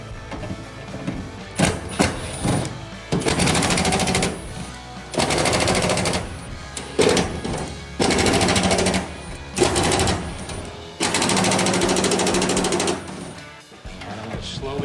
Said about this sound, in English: we'll go ahead and get the rest of these bolts out.